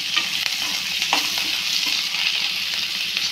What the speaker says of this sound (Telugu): ముందుగా కట్ చేసి పెట్టుకున్న ఆనియన్ రెండు పచ్చిమిర్చి కూడా వేసి బాగా ఫ్రై చేస్తాను.